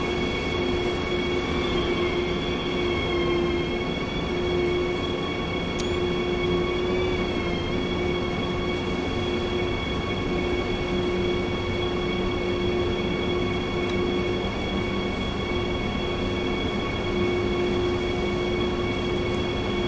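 BR 187 electric locomotive pulling out in Train Sim World 2, a steady loud rumble of rolling stock with sustained tonal whine and wheel squeal running unbroken throughout, no talk over it.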